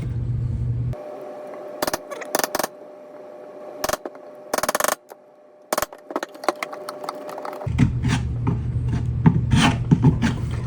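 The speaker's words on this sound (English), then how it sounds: "then we have to shave off these corners so they're 90 degrees" A hand tool rasps in short bursts across the corners of a wooden backing board, shaving them square; several scraping strokes come close and loud, separated by quiet gaps, with a steady faint hum underneath.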